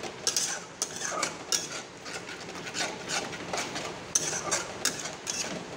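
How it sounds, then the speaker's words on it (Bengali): A spoon scrapes and stirs masala frying in a pan, giving repeated close scraping and clinking strokes over a soft sizzle, with no talking. "এখন আমার মশলাটা আরও কষতে হবে, আটটু ভাজতে হবে"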